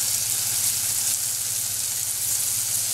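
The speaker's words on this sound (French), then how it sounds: "je fais dorer mes morceaux de mangue. Pareil, dans du beurre bien chaud." Mango pieces fry in very hot butter in a pan, giving a steady, close sizzle that stays even and continuous with no talking.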